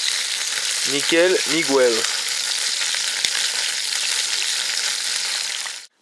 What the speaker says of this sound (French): Le magret est en train de cuire et son collègue, juste au-dessus, à peu près pareil.